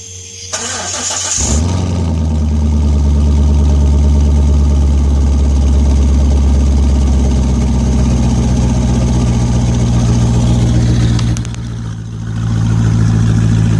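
A Corvette C5 with a 5.7 liter LS1 V8 and no mufflers cold-starts with a brief crank, then settles into a loud, steady, rumbling fast idle that dips briefly near the end before recovering.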